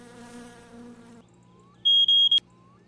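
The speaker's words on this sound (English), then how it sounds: "You can test the smoke alarm." A smoke alarm being tested in the video game My Summer Car gives three shrill, piercing beeps in quick succession over a low steady hum, loud and close.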